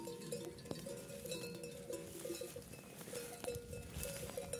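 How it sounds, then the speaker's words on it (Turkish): Sheep moving about with several metallic cowbells clanking irregularly and ringing on, faint and distant in an outdoor setting. "Arkadaşlar, koyun."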